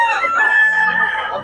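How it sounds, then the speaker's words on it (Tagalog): A rooster crows loudly and close, one long drawn-out call that holds steady before trailing off. "Mga manok ni Tatay Tony."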